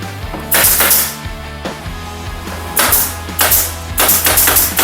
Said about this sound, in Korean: 타카핀 고정을 하겠습니다